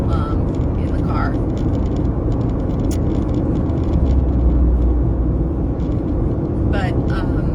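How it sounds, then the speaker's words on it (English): Loud car air conditioner blowing a steady, dense roar inside the vehicle, a constant broadband hiss filling the cabin with no break. "I didn't realize how loud the AC was."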